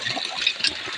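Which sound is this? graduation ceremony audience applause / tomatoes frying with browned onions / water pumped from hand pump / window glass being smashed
water pumped from hand pump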